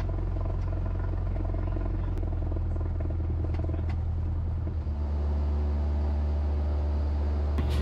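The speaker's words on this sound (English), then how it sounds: "As soon as we rotated and we started climbing out off the runway" Small training airplane climbing out after takeoff from a runway, a steady loud engine drone with strong low hum filling the cabin, the tone shifting slightly midway as the climb continues, no talking.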